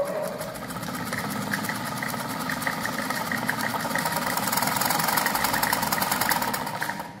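A sewing machine, just repaired after a fault of skipping stitches, runs at a steady speed with a fast, even mechanical clatter and whir that continues throughout, close and moderately loud.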